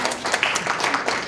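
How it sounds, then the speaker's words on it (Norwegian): A small indoor audience at a talk gives a short round of clapping to welcome new members, close and uneven with individual claps audible, brief and moderately loud. "Applaus til nye medlemmer."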